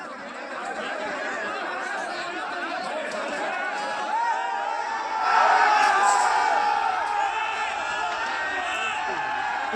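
Angry crowd of supporters at Udaipur City Palace, a dense mass of overlapping shouting voices and chatter that holds steady and swells louder about midway, with scattered whoops.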